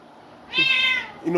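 A cat gives one loud, clear drawn-out meow close by, followed by the start of a second cry, with a voice talking.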